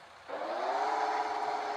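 A truck engine in the video game World Truck Driving Simulator revs up suddenly and holds a steady, rising whine, a continuous mechanical drone with no talking.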